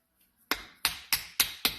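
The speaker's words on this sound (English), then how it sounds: "you'll probably want to take a screwdriver and whack it until it comes free" Five sharp metallic whacks of a screwdriver against the dome of a Honda N600/Z600 carburetor, evenly spaced and close, each ringing briefly before the next strike.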